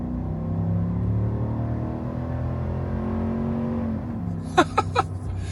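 A Black Widow Chevrolet Silverado 1500 with a 6.2-liter V8 accelerates uphill, its loud, steady engine drone climbing slowly in pitch, followed by a few sharp ticks near the end.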